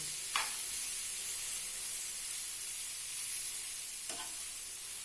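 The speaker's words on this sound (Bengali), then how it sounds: "আর এই তেলের মধ্যে কি করতে হবে পাস্তাটা একটু হালকা করে ভেজে নিতে হবে" Pasta lightly frying in hot oil in a pan, a soft, even hiss that runs the whole time with two brief metallic taps, near and fairly quiet, no talking.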